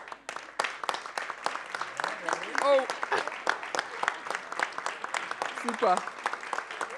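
A German event audience applauds participants invited onto the stage, a steady patter of clapping under a voice speaking briefly.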